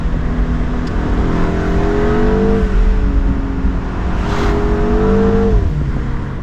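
A MINI John Cooper Works Convertible with a turbocharged engine and seven-speed dual-clutch transmission pulls hard from inside the cabin, a loud steady engine drone rising in pitch through several gear shifts.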